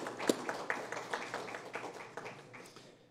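Scattered light handclaps, distant and faint, from a small crowd at an address about the pandemic response, thinning out over a few seconds.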